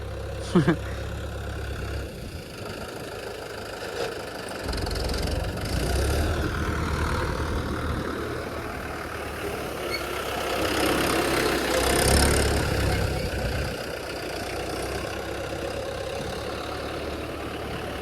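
A Swaraj 843 XM four-cylinder tractor engine idles with a steady low rumble, close and continuous, while people talk over it.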